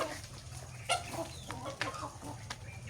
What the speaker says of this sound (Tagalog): marami din po akong mga tandang